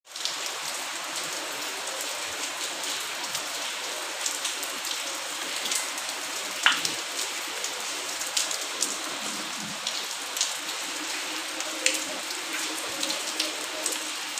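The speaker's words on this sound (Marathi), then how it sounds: "प्रियांशू, आर्यन, बघा पावसात कशी मजा घ्यायला लागले 2 जण" Steady rain falling on surfaces outdoors, a dense continuous patter of droplets with occasional louder drips, close and even in level, no talk over it.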